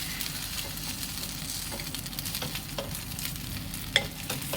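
A dosa fries crisply on a hot pan with a steady, close sizzle and crackle and a few small pops, no voices.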